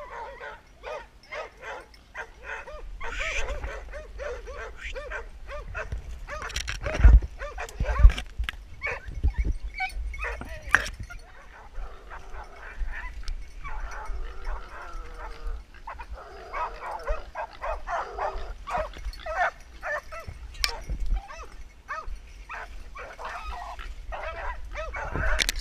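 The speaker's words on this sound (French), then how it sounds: "Allez les petits, on aboie, on aboie." Airedale terriers barking and yipping in short bursts during outdoor training, scattered sharp barks and whimpers spread through the passage, mixed with intermittent talking and handling noise.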